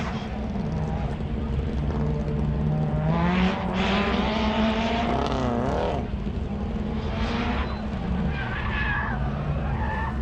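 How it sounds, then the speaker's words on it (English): An all-wheel-drive race car at the UMI King of the Mountain hill climb, engine droning steadily with wavering pitch as it brakes and slides its tires, a continuous loud rumble with a commentator talking over it. "Randbeck sounding like he's on the brake spin or sliding the tires around out there."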